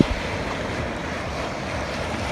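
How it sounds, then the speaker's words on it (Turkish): Sea waves surge and wash steadily around a canoe on rough, choppy water, a continuous loud roar of surf mixed with wind buffeting the microphone, with no voices. "Çünkü dalga var."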